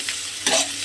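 Sliced tomato drops into hot oil with garlic, sending up a brief burst of sizzling over a steady background fry, with no talking.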